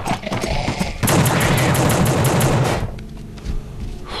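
Gunfire in the video game The Suffering, a dense rapid burst of shots for about two seconds, loud and close, followed by scattered quieter game sounds.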